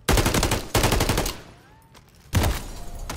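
Rapid automatic gunfire in a Call of Duty match comes in loud dense bursts, then drops to quieter game sounds for about a second before another loud burst of fire.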